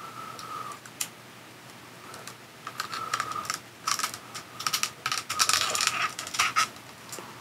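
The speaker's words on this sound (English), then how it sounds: "Let's take this plastic off." Protective plastic film comes off the inner screen of a Samsung Galaxy Z Fold3 in a series of faint close crinkles and small ticking taps, growing busier and slightly louder toward the end, with no talking.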